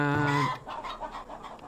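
A hen clucks loudly and close in the settlement-building game Farthest Frontier, one strong harmonic squawk followed by softer, choppy clucking over quiet ambience.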